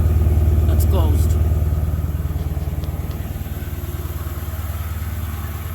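Dodge Charger Pursuit with a 5.7 V8 and custom muffler idling on a cold start, a loud, steady low rumble that eases slightly after the first couple of seconds, with faint clatter above it.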